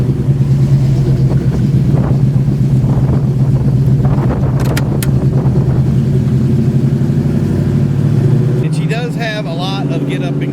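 A restored 1979 Oldsmobile Cutlass Supreme drives along with a steady low engine drone and road rumble from inside the cabin, continuous and fairly loud, changing tone near the end.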